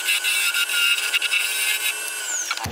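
A wood lathe turns a figured ash bud vase, the cutting tool skimming the spinning blank in a steady, close, continuous whine with a brief clatter as the cut ends.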